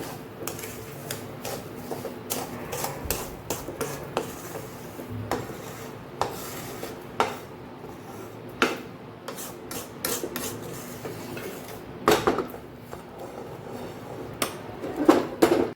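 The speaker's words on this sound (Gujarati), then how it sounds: "તો અહીં આપણે ખાંડ ઉમેરીને મસ્ત એવી મિક્સ કરી દીધી છે આપણે લોટની અંદર" Sugar being mixed into golden-brown roasted flour in a pan for kada prasad gives repeated dry scraping and rubbing strokes of a spoon against the pan, close and irregular for about sixteen seconds.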